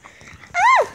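A pet dog lets out a single short, high whine or yelp near the end, clear and close, after a stretch of quiet shuffling.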